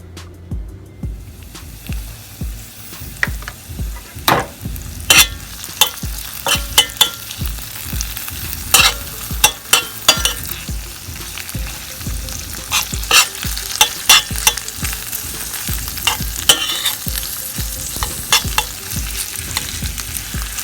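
Corned beef hash frying in a pan and being stirred, a steady close sizzle broken by repeated scraping and clattering strokes of the spoon, with no talking.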